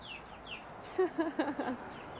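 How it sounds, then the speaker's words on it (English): A tiny young rooster chick clucks in a short run of soft, quick chirping notes, faint and close, with thin peeps before it. "Little rooster."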